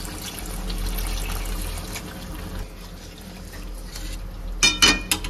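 Water is poured into a pan of rui fish curry cooking with ridge gourd and poppy seed paste, a short splash and trickle near the end over a steady background hum.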